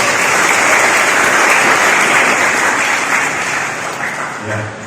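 High school students at SMA Negeri 1 Ciruas applaud together in a hall during a traffic safety outreach event, a dense steady clapping that holds for several seconds and gradually fades near the end.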